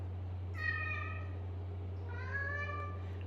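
A cat meows twice, clear and drawn out, with a pause between the calls, over a steady low hum in a quiet indoor room.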